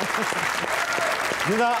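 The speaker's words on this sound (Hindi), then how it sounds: "तालियां बजाइए भाई" Studio audience applause on a Hindi comedy quiz show after a player succeeds in a cricket-themed game, steady dense clapping with a voice and some musical tones rising over it near the end.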